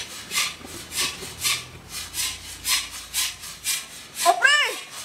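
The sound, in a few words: someone sawing metal bars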